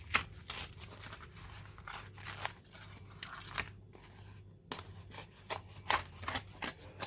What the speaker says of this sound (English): what I want to do is now just tear strips